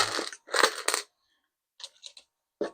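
Small metal bike repair items — keys, Allen keys and a chain clip — rattling and clinking in a few short close bursts with brief pauses between.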